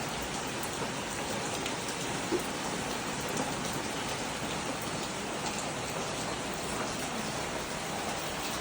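Heavy, steady rain pouring down, a dense continuous patter on surfaces with no voices.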